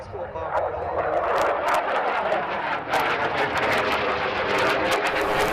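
A Pakistani Air Force JF-17 fighter jet flies during aerobatics at the Izmir air show in Turkey, producing a loud, continuous broadband roar that stays strong throughout.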